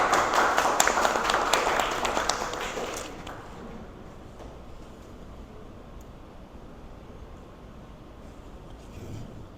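An audience at a book fair panel applauds the arriving panelists, a loud burst of clapping that thins out and fades to a quiet room within a few seconds.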